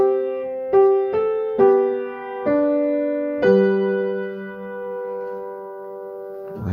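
A piano plays a single bar of a song, a handful of clear notes and chords struck one after another, the last held and left to ring, close and unaccompanied.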